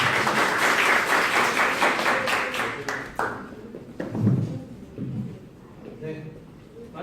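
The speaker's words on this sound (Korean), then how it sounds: "박수로 대표님 맞이하겠습니다." Audience applause welcoming a company CEO to the stage at a social economy information session in Busan, a steady wash of clapping that thins out over several seconds, with some voices mixed in.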